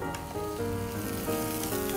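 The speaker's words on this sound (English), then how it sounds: "I can hear it sizzling away." Turkey ham and cheese sandwiches sizzle softly in a sandwich maker as the bread toasts golden, with a quiet, continuous crackle and no talking.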